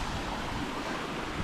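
Water pours steadily over the top of a waterfall at Bell Gorge, a constant, even wash of noise with no breaks and no voices.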